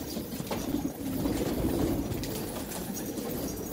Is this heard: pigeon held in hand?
yes